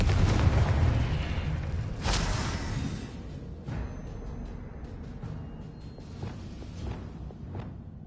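Booming Confringo spell blasts in Hogwarts Legacy. A heavy rumble opens and a sharp explosive burst hits at about two seconds, then fainter crackling pops and a lingering low rumble follow.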